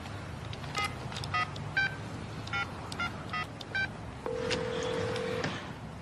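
Telephone keypad tones ring out as a number is dialed, about nine short beeps in an uneven rhythm, then a longer steady tone over a faint background hum.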